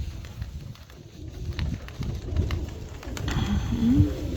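Pigeons coo at close range during a pigeon-training session, low soft throaty calls repeating over a steady outdoor background, with one rising coo near the end.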